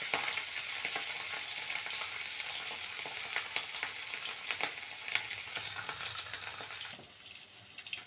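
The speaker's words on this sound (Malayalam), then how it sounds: "എന്നിട്ട് ഇതിലേക്ക് നമുക്ക് മീനിട്ട് കൊടുക്കാം. നമുക്ക് പൊരിച്ചെടുക്കാം." Fish frying in hot oil with curry leaves in a pan: a dense, continuous crackling sizzle, close and steady throughout, with a few faint stirring clicks and no speech.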